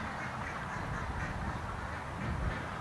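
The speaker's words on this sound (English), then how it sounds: "The ducks are having fun though. They're just down there in the creek." Ducks quack down in a creek, their calls blending into a steady, fairly loud outdoor wash of water and bird chatter at middle distance.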